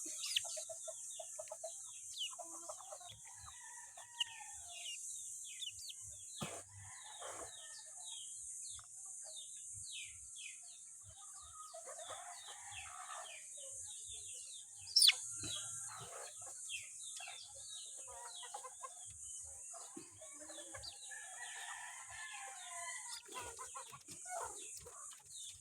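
A pet chick chirping in short, high, repeated peeps that go on throughout over a steady background hiss, with other fowl faintly audible and a brief louder knock partway through.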